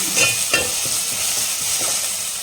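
Chopped tomatoes sautéing in a pan for green mutton tikka masala, a steady close sizzle with a few spoon stirs and scrapes, no voices.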